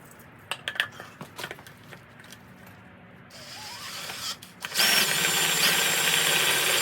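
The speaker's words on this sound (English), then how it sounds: "make sure that the drill is going super slow. You don't want to go fast. Just really, really slow, and let it, you know, bite into the metal" A power drill bores slowly into a metal wheel while fitting 2021 Subaru Outback wheels to a MK6 VW Jetta. Scattered clicks and handling noise give way to a steady motor whine, then a loud, harsh grinding as the bit bites in.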